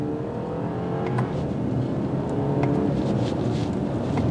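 2022 BMW 5 Series sedan with 248 horsepower accelerating hard from a stop in sport mode, the engine note climbing in a smooth, moderately loud drone, heard from inside the car with no talking.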